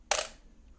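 Zenit 19 SLR film camera firing its shutter and mirror release: one sharp, close mechanical clack with a brief bright burst that decays quickly into near silence.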